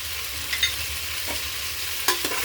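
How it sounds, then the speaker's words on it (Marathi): Turmeric, biryani masala, coriander and cumin powders being stirred in a cooking pan, an even hiss of frying under a couple of quick spoon scrapes and clinks, close and fairly quiet with no talking. "छान मिक्स करून घेऊ।"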